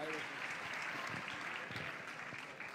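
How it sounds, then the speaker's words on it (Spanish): Audience applause at a sports awards gala in Béjar: a continuous wash of clapping from a seated crowd, fairly distant and even, easing slightly toward the end. "fuerte aplauso para ellos"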